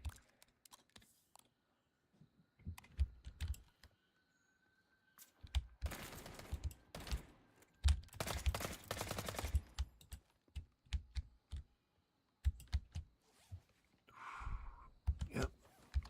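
Gunfire in the tactical shooter Incursion Red River, heard as scattered sharp shots followed by a dense burst of automatic fire in the middle, then more sporadic shots and a short swell of noise near the end. No speech.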